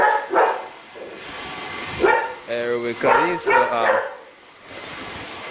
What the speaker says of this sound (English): that's my dogs over there just making some noise